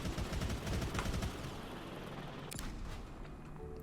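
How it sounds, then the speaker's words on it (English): Machine gun fire in the City Smash 2 video game, a quiet dense rattle of rapid shots with rumbling impacts, fairly continuous and fading slightly after the first seconds. "The first one is the rocket, and then the next one is machine gun."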